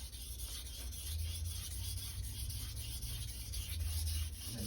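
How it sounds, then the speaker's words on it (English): A knife blade is sharpened by hand on a stone in repeated short scraping strokes, a steady rhythmic rasp close up and fairly quiet, with no talk. "Always keep in mind that you're only sharpening where your fingers are touching."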